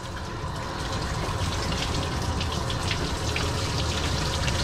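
Running water pours steadily over a matted dog being rinsed, a dense continuous splashing rush that stays loud and close throughout, with no voices.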